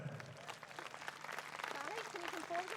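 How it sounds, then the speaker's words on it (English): An audience applauds an award winner at an equestrian prize-giving, fairly faint, steady clapping with a voice talking over it. "please give a very big round of applause for the winner, Sally Taylor"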